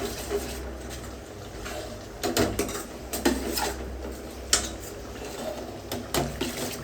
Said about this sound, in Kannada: ಈಗ ನೀರು ಹಾಕುವ